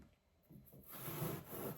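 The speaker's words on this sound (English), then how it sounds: "so I can just use my handsaw and just cut right along the two pieces of wood" A handsaw cuts through OSB board, a steady close rasping of teeth on wood strands that starts faint and builds into continuous stroking.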